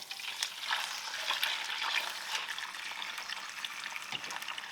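Octopus fries in a pan with halved garlic cloves, parsley and chili, giving a steady close crackling sizzle with bright spitting pops throughout.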